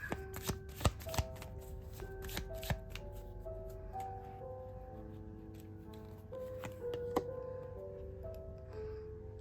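A deck of English-language oracle cards being shuffled close by, a series of quiet riffling snaps and taps at an uneven rhythm over soft background music.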